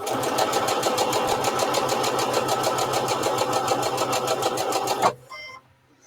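A sewing machine runs fast and steady while stitching quilt patches, a loud rhythmic mechanical chatter that stops abruptly near the end, leaving near silence.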